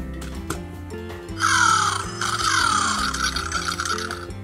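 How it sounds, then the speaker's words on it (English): WowWee Untamed Fingerlings Bonehead Raptor toy lets out rasping, croaky electronic calls with clicking bone-like rattles, two harsh screeching bursts over a busy mechanical clatter. "I like the bone clicky sounds."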